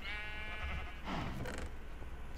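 Sheep bleating in the video game Minecraft, a short wavering game-sound bleat standing out over a steady, busy background of in-game noise.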